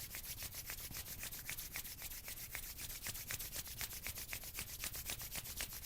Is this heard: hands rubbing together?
yes